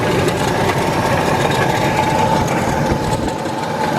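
An old Ford engine runs steadily with a dense mechanical grinding, likely from a bent fan pulley, making a constant rough hum close by with no talking.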